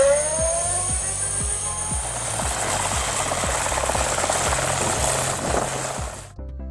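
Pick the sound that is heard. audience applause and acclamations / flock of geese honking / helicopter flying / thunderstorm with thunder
helicopter flying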